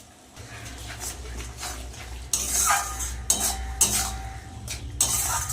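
A spice masala with Kashmiri red chili powder fries in a pan for a country chicken curry, with a low sizzle broken by repeated scrapes and clanks of a spoon stirring against metal.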